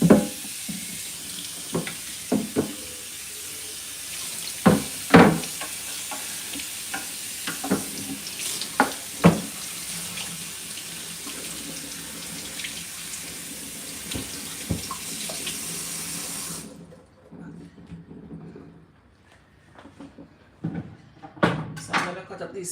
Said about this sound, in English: Let me rinse off my carrot and rinse off my cutting board.